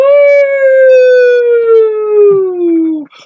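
A person's voice imitates a wailing siren with a long, loud, sustained tone that slowly slides downward before breaking off.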